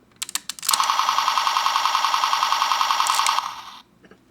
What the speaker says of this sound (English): some good gun firing sound